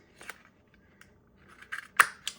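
Scissors cut paper for a junk journal cover: a few sharp, close snips spaced apart, with the loudest crisp cut near the end and quiet pauses between.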